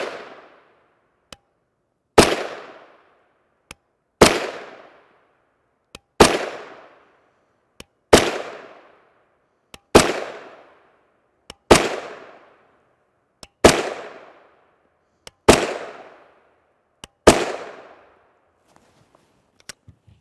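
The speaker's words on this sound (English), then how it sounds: "CZ Scorpion Evo 3 S1 SBR. Had this for a long time and I love shooting it." A CZ Scorpion Evo 3 S1 short-barreled rifle fires 9x19mm 124-grain FMJ rounds, about ten loud, sharp single shots spaced roughly two seconds apart, each with a short ringing decay, and faint clicks between shots.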